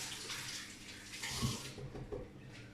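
Tap water runs steadily into a sink while a bell pepper is rinsed, a continuous close hiss with a faint clatter midway and no talking.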